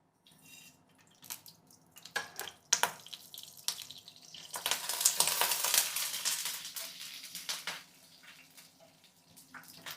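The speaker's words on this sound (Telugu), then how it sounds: "ఆయిల్ కాగిపోయింది. పోపు దినుసులు వేద్దాము." Tempering spices, dried red chillies, garlic, kasuri methi and curry leaves crackle and sizzle in hot oil, swelling in the middle with a burst of spattering, then settling to scattered pops.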